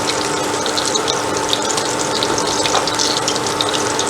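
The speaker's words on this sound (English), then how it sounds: "this is our last batch of our vegan Korean beef fried" Vegan Korean beef-style seitan chunks frying in a batch, giving a steady, close crackling hiss that holds at an even level throughout with no speech.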